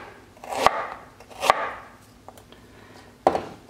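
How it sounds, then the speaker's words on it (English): A knife chops through ginger on a board in three separate sharp strokes, unevenly spaced, close and clear with no other sound. "Just chop it up."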